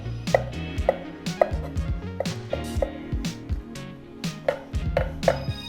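A knife slices shiitake mushrooms on a cutting board in quick, steady strokes, each cut ending in a crisp tap against the board, with light background music underneath.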